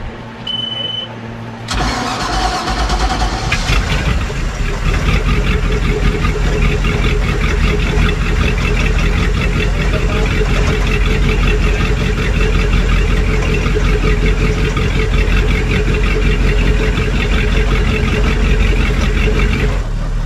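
Second inboard motor on a Formula 292 Fastech boat cranks and catches, then settles into a loud, close, steady rumbling idle with a deep throb that continues unbroken, no voices over it.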